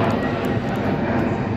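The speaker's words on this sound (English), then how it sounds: "Plane, aeroplane." A plane passes close overhead near a railway station in Stockport, a loud, steady broadband engine roar that fills the whole moment without fading.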